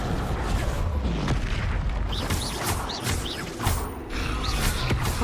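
A spell effect from the Hogwarts Legacy video game bursts out in a booming, crackling whoosh layered over dense game sound effects and rumble, loud and continuous across a few seconds.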